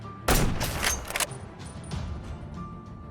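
A single loud gunshot rings out close by in modded Minecraft, followed by a burst of rapid cracks and a lingering rumble of distant fire and ambient noise.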